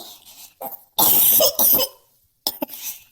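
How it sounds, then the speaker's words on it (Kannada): A person coughing hard in a couple of loud, harsh bursts with short gaps and a throaty clearing at the end, close to the microphone, no speech. "ಈ ಕೆಮ್ಮಿಂದ ಹಾಡು ಹೇಳಕ್ಕಾಗ್ತಿಲ್ಲ"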